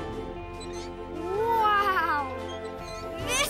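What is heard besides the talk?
cat meowing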